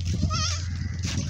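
A short wavering bleat from a goat close by, heard over background chatter and farmyard noise.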